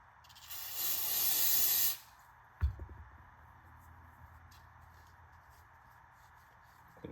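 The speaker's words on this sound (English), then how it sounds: "I'm just gonna use regular brake cleaner." Regular brake cleaner is sprayed into a ratchet's internals in a short close hissing blast of about a second and a half. A clunk and small handling noises follow in a quiet workshop.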